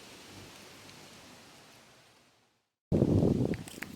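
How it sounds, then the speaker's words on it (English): Steady rain hiss in the West Virginia mountains fades nearly to silence, then a loud rumble of thunder bursts in close, with rain continuing beneath it. "so it's gonna rain, and thunder"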